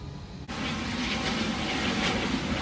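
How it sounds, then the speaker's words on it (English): A private jet flies overhead outdoors, its engine roar cutting in abruptly after a brief quieter moment and then holding as a loud, steady, broadband rush. "Private jet, baby!"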